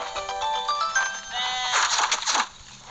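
A goat bleats in the video game Walk Master, a wavering, nasal cry layered over bright electronic game tones and chimes, close and fairly loud for a few seconds.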